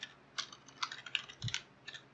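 Linux commands being typed on a computer keyboard: a run of quick, crisp key clicks in an irregular rhythm, close and fairly quiet, with one heavier thump partway through, like the enter key.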